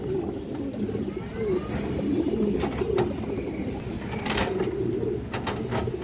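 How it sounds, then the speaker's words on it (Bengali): Pigeons of Bagha and green-necked breeds coo nearby in soft repeated throaty calls over a steady murmur, broken by a few sharp clicks and flutters. "দূরে সবুজ গলা কবুতরের বাচ্চা আছে"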